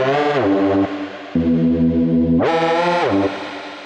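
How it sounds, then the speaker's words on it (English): Reese bass synth patch built in Serum 2 with a detuned spin effect, thick buzzing sustained notes that jump between pitches, swelling and sweeping as the effect spins, heard alone and fairly loud. "let's bring in some of this spin to give it more of that detuned sound"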